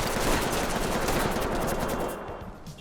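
Dense, rapid bursts of gunfire in the video game Ready or Not rattle continuously for a few seconds, loud and close, then thin out and fade near the end.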